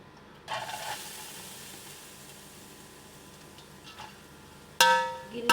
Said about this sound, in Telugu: గిన్నె వేడి చేసాను కదండి, అందుకని సీసీ ఉంటుంది.